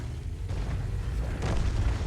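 Artillery fires in a tank video game, heard as a steady, heavy low rumble of booms that swells slightly toward the end, with no voices over it.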